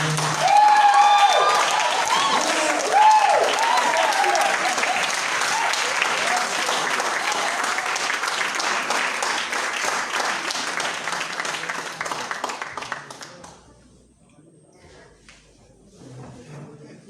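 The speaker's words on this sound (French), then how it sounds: "Tiens-toi debout et acclame fortement le Seigneur." Church congregation at a Pentecost service applauding and cheering loudly for about thirteen seconds, a dense sustained wash of clapping with raised voices, then dropping off to a quiet room with faint murmurs.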